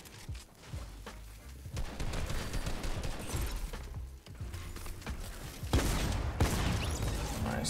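Gunfire in Fortnite, with repeated sharp shots and rapid bursts mixed with clattering game effects and footstep-like thuds, loud and close throughout, with no clear talk.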